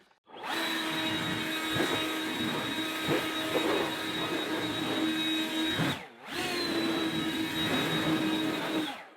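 A Ryobi 18V handheld blower runs in regular mode with a steady, loud whooshing roar and a motor whine, cut by one brief dip in airflow midway before it resumes at full strength.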